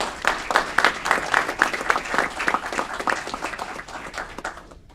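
Audience applause for Alicia Alcarez at a City of Aurora Committee of the Whole meeting, a steady patter of many hands clapping in a room that gradually thins and fades out.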